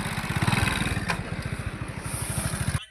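A motorcycle engine runs close by with a steady, throbbing low pulse through a short ride, cutting off abruptly at the end.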